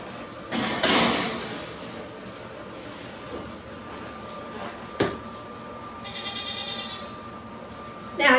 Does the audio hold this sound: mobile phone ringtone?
no